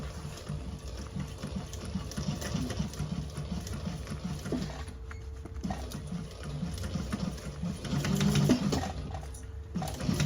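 A sewing machine stitches a tote bag with a fresh needle, a steady low mechanical whir running continuously and swelling slightly louder toward the end, with no talking over it.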